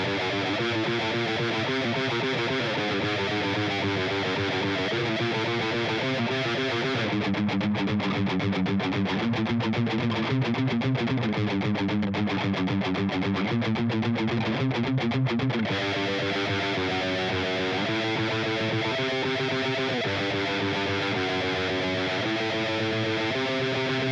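An electric guitar plays the middle-section riff with heavy distortion, a loud, continuous chugging pattern of repeated notes that shifts in texture partway through, with no voices.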